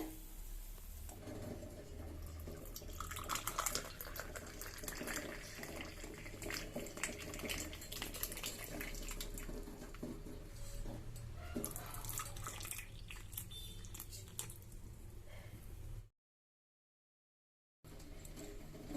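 Bamboo tea brewed with palm candy, cardamom and ginger is poured through a filter, making a faint, steady trickle and splash. There is a brief silent gap near the end before the pour resumes.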